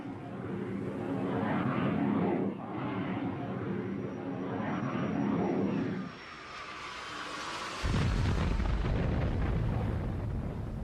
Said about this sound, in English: Israeli planes mounted an attack.